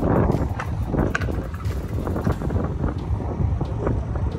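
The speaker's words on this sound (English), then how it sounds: "It's a little windy." Wind gusts across the microphone outdoors by a lake, a steady, close rumbling buffet that stays loud throughout, with no one talking.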